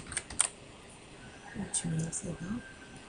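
Computer keyboard typing while setting up an hMailServer mail server: a few light, scattered keystrokes spread unevenly through a short stretch, close and quiet.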